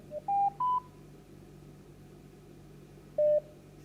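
A few dialing tones beep on a phone line during a radio call-in attempt, three quick tones in a row, then a pause and a single further tone over a faint steady hum.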